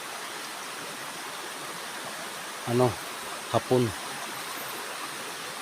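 A river flowing with a steady, even rush of water, while someone speaks briefly over it a couple of times.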